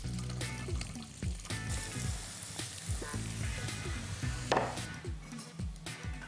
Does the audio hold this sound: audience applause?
no